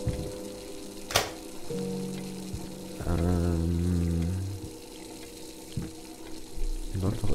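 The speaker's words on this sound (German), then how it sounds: "Läuft doch irgendwo Wasser oder was?" Running water in the horror video game Layers of Fear, like a tap or shower somewhere in the house: a soft watery trickle under tonal hums and low drones, with a brief sharp click near the start.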